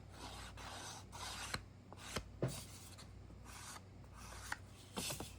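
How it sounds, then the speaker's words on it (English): A sand eraser is rubbed along the edges of black watercolor paper, giving faint, close rasping strokes in repeated short passes with small clicks between them. "just take your mono sand eraser and just kind of run it along a little bit, and those will come right off"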